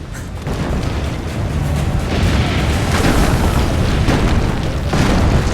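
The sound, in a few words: cannon firing in Assassin's Creed Brotherhood video game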